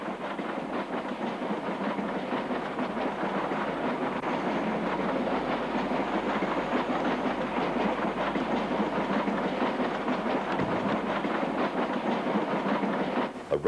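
A Swindon-built intercity diesel unit arrives at Paddington, a steady rumble and clickety-clack of wheels over rail joints running continuously at moderate level, with no voices.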